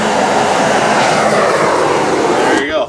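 A gas-fired heat tool for shrink-wrapping a boat roars loudly and steadily with a broad, rushing jet-like blast, then cuts off abruptly near the end with a brief falling tone.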